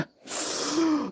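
A single loud, close sneeze with a sharp breathy burst after a brief intake, heard alone with no talking.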